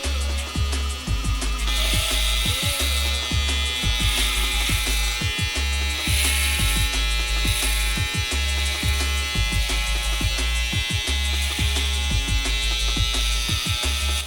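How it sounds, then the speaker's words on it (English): Babyliss Black FX One trimmer cutting hair: a loud, close electric buzz running throughout, with repeated short dips and changes in pitch as the blade passes through hair, no speech. "it is a powerful trimmer and it does cut through the hair effortlessly"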